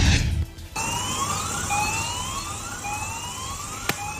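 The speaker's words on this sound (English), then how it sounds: "sirens rang out in the coastal communities across the South Pacific" Tsunami warning sirens sound across South Pacific coastal communities, a steady rising wail carrying at a distance over low background rumble, with no voices.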